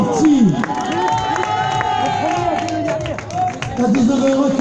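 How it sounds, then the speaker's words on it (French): A crowd at the finish of an urban trail running race in Montpellier cheers and claps steadily, with shouts and an announcer-like voice over loud, continuous crowd noise. "Allez messieurs, dames, vous pouvez commencer à applaudir s'il vous plaît."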